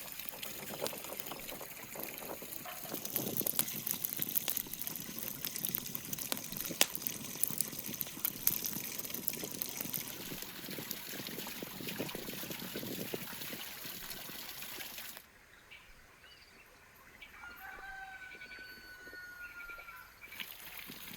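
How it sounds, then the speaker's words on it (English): A water wheel turns at a wilderness cooking camp, water trickling and splashing steadily up close for most of the stretch before the sound drops to a quieter, thinner flow. "My water wheel is obviously in a good mood."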